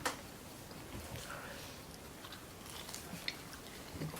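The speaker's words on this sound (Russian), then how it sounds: "За кадром хрумкаю я" Quiet, close crunching and chewing of a freshly baked, fluffy homemade pastry, soft irregular bites and mouth sounds running steadily with no talk.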